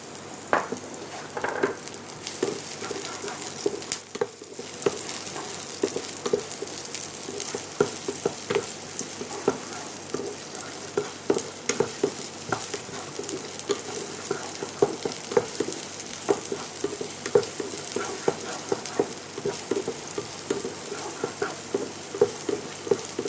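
Garlic and the white bulbs of spring onions sauté in a pan for chilli chicken, giving a steady close sizzle with frequent small crackles and pops throughout, no voices.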